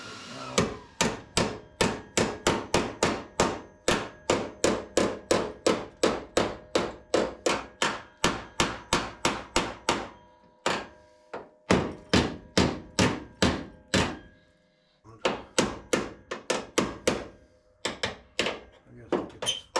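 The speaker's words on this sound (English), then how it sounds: "I think I'm gonna take a hammer to it right now." Repeated sharp hammer blows on the metal rocker of a 1968 Mustang, struck in a fast steady rhythm with a couple of brief pauses, close and loud.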